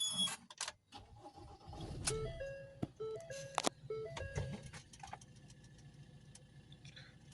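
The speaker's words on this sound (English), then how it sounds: "we're going to need to start the engine up again" A Ford Transit Custom van with a diesel particulate filter fault sounds a few dashboard chime tones and clicks, then its engine starts and settles into a quiet idle, heard close by inside the cab.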